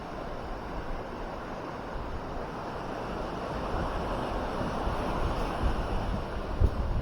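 Steady, broadband rushing wind fills a seaside cave on Capones Island, Philippines, constant and fairly loud with a low rumble, no voices.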